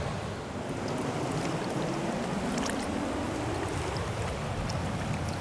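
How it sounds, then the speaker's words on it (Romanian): Clothes being washed by hand in tap water with a little rinse aid, somewhere on the road in Scandinavia: a steady, close wash of splashing and sloshing water runs without a break, with no voices. "Am terminat cu spălarea hainelor"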